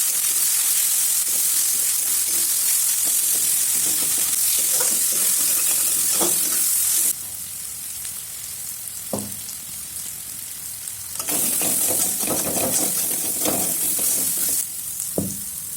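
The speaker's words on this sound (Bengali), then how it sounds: "এখন আদা রসুনের কাঁচা গন্ধ তাড়াতাড়ি অল্প সময় ভাজে নিই।" Ginger, garlic and green chili paste fry with meat in a pan, giving a steady loud sizzle broken by scraping stirs, with a quieter stretch midway before the frying noise rises again.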